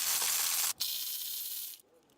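A ratchet with a 13 mm socket loosens the transmission pan bolts on a 2003 Cadillac Escalade 4L65E: a close, dense clicking ratchet whir, briefly interrupted, then resuming before stopping.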